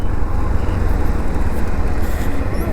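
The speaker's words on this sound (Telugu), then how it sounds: "చూసారా బస్సు ఎలా వచ్చిందో" A bus passes on a road near Yarada Beach in Vizag, a loud, close, continuous engine and tyre rumble that holds steady through the moment, with no talking.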